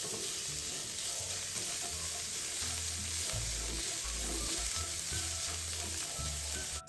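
Sliced shallots and diced shiitake mushrooms stir-fry in hot oil, giving a loud, continuous sizzle with faint stirring throughout.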